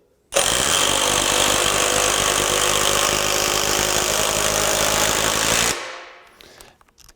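A Metabo HPT 18V MultiVolt brushless multi-speed impact driver, model WH18DEX, runs on high for about five seconds as a loud, steady, rapid hammering whir close up, then winds down and stops.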